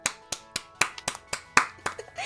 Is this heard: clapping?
yes